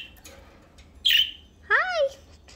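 A pet parakeet calls close by: a short harsh squawk, then a quick run of sweeping chirps about half a second later, with no speech around it.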